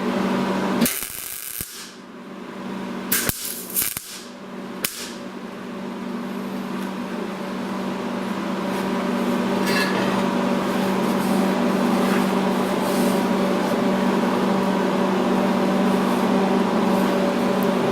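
A turbo elbow being welded onto a V8 log manifold, with a few sharp bursts and clanks at first, then a long steady buzzing hiss of the welder that gradually grows louder, close by.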